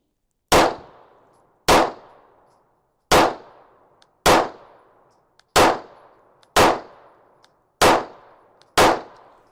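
A Canik Rival pistol with an optic fires at an outdoor range on a chilly day, eight sharp, loud shots spaced about a second apart, each cracking hard and ringing off briefly into silence.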